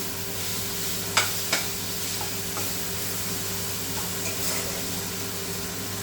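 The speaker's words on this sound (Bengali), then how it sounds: "টমেটো আদা রসুন বাটা একসঙ্গে দিয়েছি এবার এটাকে ভালো করে একটু কষিয়ে নিই" Tomato, ginger and garlic paste sautéing in a pan for chicken curry: a steady soft sizzle with a low hum underneath, broken by two sharp utensil knocks early on and faint scraping stirs later.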